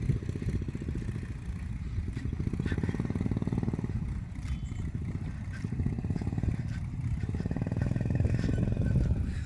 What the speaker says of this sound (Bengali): আমরা বাইক নিয়ে এসেছি দুইজনে,